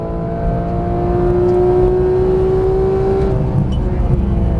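Porsche GT3 engine pulling hard under full throttle at Exotic Racing in Las Vegas, a loud sustained drone rising steadily in pitch for a few seconds, heard from inside the car, then easing slightly.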